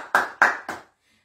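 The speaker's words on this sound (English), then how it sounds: "Give yourself a clap." Three sharp, close hand claps in a slow, even rhythm during a children's sing-along session, each fading quickly, followed by near silence.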